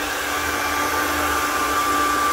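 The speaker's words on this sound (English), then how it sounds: "So I will use my hair dryer" A hair dryer blows steadily and loudly to dry a freshly thrown clay vase on the wheel, a constant even whoosh with no pauses and no voices.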